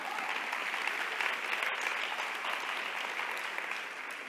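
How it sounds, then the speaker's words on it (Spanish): Steady audience applause at a coeducation congress panel, dense and sustained clapping from a crowd filling the room without a break, fairly close and even in loudness. "Un aplauso para Chihuahua"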